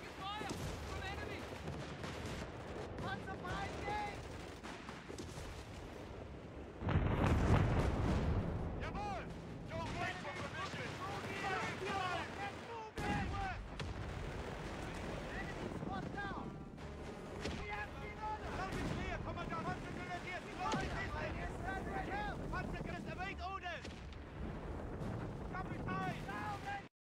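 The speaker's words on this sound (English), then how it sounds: "Took forever, but very good artillery." Artillery barrages and gunfire in Company of Heroes 3 during a North African campaign battle, with heavy booming impacts, one especially loud blast, and crackling shots under game voice callouts throughout.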